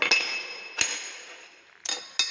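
Sharp taps on a hard Kajaria outdoor vitrified tile give four bright, glassy clinks, two close together at the start and two near the end, each ringing briefly before fading, fairly close and with nothing else in the background.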